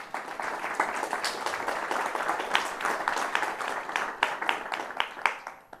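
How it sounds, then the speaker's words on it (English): An audience at a formal debate event applauds panelists in a sustained, moderately loud round of clapping that thins out toward the end, with individual claps standing out. "Please give them a round of applause."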